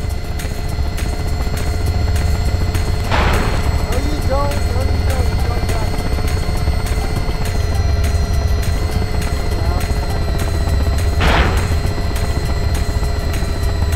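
A helicopter in the video game Garry's Mod, heard as a constant whirring rotor and engine drone, with two short sweeping whooshes and some faint chirping beeps over it.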